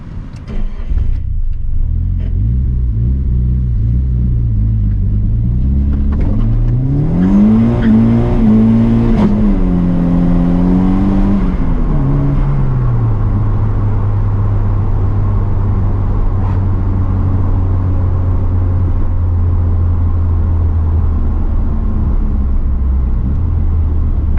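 A Nissan S13 in need of work, out on a test drive, revs up and down through several rising and falling engine sweeps, then settles into a steady, loud drone, with a brief squeal of tyres.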